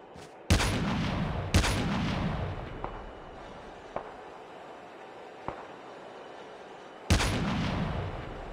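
Rocket blasts and gunfire in the mobile game COD Mobile: three heavy booming explosions with rumbling tails and a few sharp single shots between them, heard alone at moderate volume.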